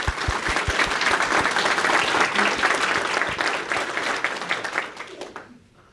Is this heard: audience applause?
yes